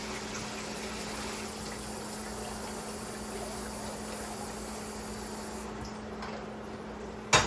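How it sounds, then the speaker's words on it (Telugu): Water is poured into a chole buttery curry during home cooking, a steady close rushing pour that runs evenly for several seconds before a brief clatter at the end. "కొన్ని వాటర్ పోస్తున్నా."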